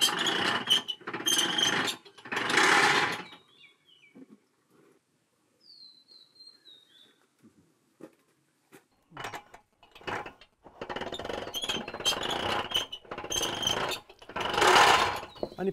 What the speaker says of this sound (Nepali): अब यसलाई हामीले रोलर मेसिनमा हालेर यसको पानी निचोरेर फाल्ने हो